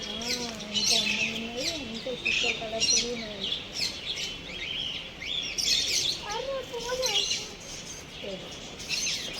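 Peafowl at Kakatiya Zoo Park in Warangal call repeatedly with high chirps and squawks, close and fairly loud, while people talk underneath throughout.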